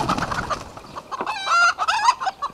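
Agitated chickens in Portugal's Algarve cluck and squawk at a dead snake, a dense run of overlapping calls rising to sharper, louder cries midway, fairly close.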